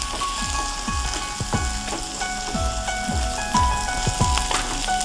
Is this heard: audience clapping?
no